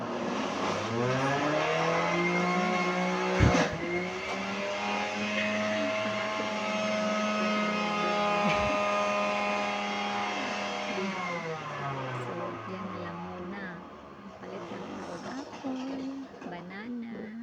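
A blender or juicer motor whirs steadily and loudly for a long stretch while processing fruit and vegetables, its pitch wavering slightly and dropping near the end as it winds down.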